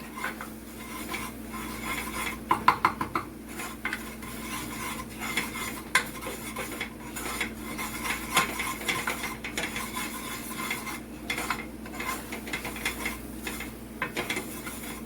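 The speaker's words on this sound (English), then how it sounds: "And I'm going to add my 2 tablespoons of flour. And I'm going to mix that real good." A utensil stirring flour into a hot pan for a cabbage casserole, continuous scraping and rubbing strokes with occasional metallic clinks against the pan over a faint sizzle.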